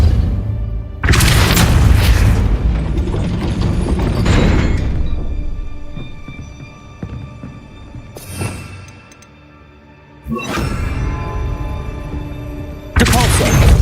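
Repeated Depulso force spell blasts in the game Hogwarts Legacy, heavy booming bursts that ring out and decay, several in a row with quieter gaps between them.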